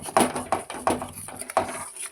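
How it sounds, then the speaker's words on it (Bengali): A spatula scrapes through spice paste as it is sautéed in a pan for a cauliflower curry, giving four or five short, rough strokes in an uneven rhythm, close and fairly loud. "আবার একটু ভালো করে কষিয়ে নেব মশলাটা।"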